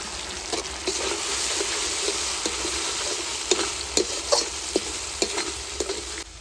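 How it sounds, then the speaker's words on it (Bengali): Chopped tomatoes frying with ground cumin, coriander and green and dried chilli paste for chicken khichuri, a continuous close sizzle punctuated by a regular series of scraping stirs against the pan. "টমেটো দিয়ে একটু ভেজে নিয়েছি"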